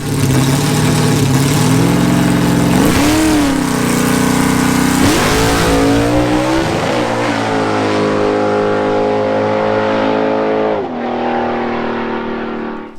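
A loud drag race car engine revs hard and roars away down an eighth-mile track in rising bursts, pitch climbing through gear changes before the sound fades off into the distance.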